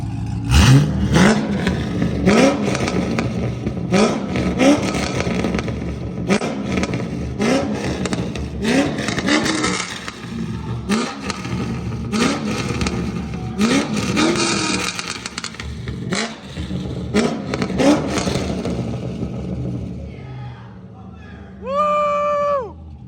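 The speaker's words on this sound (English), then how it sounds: "It revs so much faster" A C5 Chevrolet Corvette V8 with longtube headers revs repeatedly in sharp bursts, loud and close, rising and falling in pitch with a raspy exhaust note throughout.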